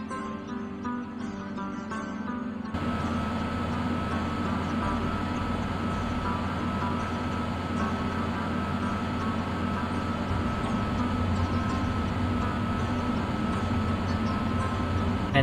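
Train rumbling along the tracks in Indian Train Simulator, a loud, steady low roar with rail clatter that starts abruptly after a quieter opening and carries on unbroken, with no voices.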